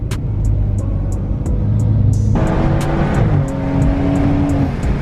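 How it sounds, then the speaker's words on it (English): A BMW N55-engined car with a burble tune idles and revs, with a regular series of sharp exhaust pops and crackles over a low engine rumble from two-step launch control. "Hit him with the little two-step."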